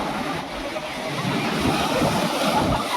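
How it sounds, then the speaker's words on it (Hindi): Water surges in as a steady, loud, broadband rush, with wind buffeting the microphone and a faint voice in the background. "गाइस अभी ये देखो पानी आ रहा है।"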